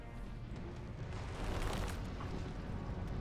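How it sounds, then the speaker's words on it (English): A building blown up in Iron Harvest, a real-time strategy game, heard as a low rumbling explosion with a swelling roar midway, fairly quiet and continuous, with no voices. "Damn, they blew up the building."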